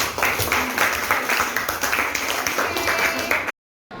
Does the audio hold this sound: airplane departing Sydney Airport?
no